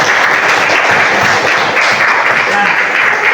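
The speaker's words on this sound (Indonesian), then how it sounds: "beri tepuk tangan dulu untuk Reza" A classroom group gives steady, dense applause for a student, loud and close throughout, with voices mixed into the clapping.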